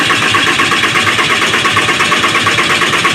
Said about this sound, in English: have an assistant crank the engine over